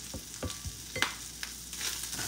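Onions cooking in a pan, a quiet bed of sizzle with several distinct soft scrapes and clicks of stirring close by, no voices.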